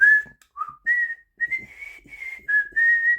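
A single person whistles a sustained, melodic tune, clear and close, in phrases of held notes with short gaps between them.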